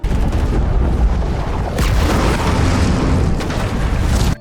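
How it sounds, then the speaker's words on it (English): Bombs dropped by parachute explode in a monster movie battle, a loud sustained roar of overlapping blasts and rumble with fresh bursts striking near the middle and again toward the end, no speech. "Suddenly, several bombs parachute down from above."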